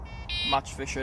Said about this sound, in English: Oh, that's my alarm going.